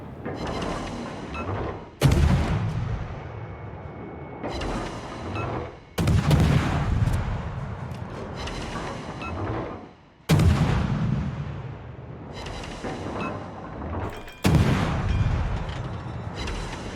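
Battleship main-gun salvos in World of Warships, four heavy booming volleys spaced roughly four seconds apart, each with a long rumbling tail between shots.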